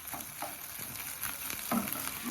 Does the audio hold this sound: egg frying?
yes